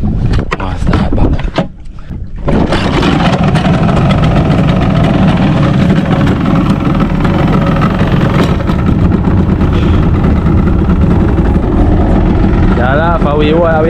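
Boat engine running on a fishing trip hauling fish traps off Jamaica, a loud, steady droning motor with wind and water noise after a brief dip at the start.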